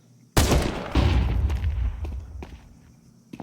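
Gunfire in a Counter-Strike 2 match, with an auto sniper in play: a sudden loud shot bursts in, then a second blast and a sustained rumble of rapid fire that fades into scattered lighter clicks and footsteps.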